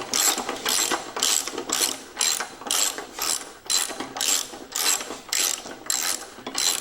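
A hand ratchet clicks in steady, rhythmic strokes, about ten even bursts of metallic pawl clicking close by, as it works a bolt loose on a 1960s Allis Chalmers/Simplicity walk-behind mower that had sat unused for years.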